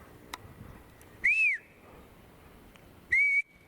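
Two separate bird whistles, each a short rising-and-falling note that levels into a steady tone, clear and fairly loud against a quiet outdoor background with a pause between them.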